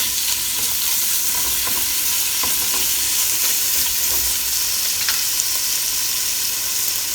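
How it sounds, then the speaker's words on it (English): Bacon frying in a lightly oiled, preheated pan for a German stew, with a steady, dense sizzle, a few sharp pops and the scrape of stirring throughout, close and fairly loud, with no voices. "Just let it cook for a couple of minutes, like 3 to 4 minutes, and you will see that the bacon is releasing the oil"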